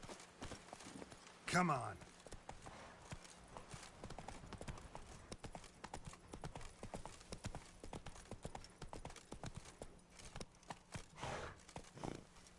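Horse hooves clip-clop rapidly and steadily in The Witcher 3: Wild Hunt on PS5, with a brief whinny near the start and a person speaking over the hoofbeats.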